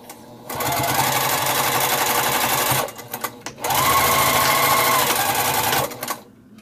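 Sewing machine stitching a drawstring backpack, two loud bursts of rapid, steady stitching separated by a short pause, close by and alone.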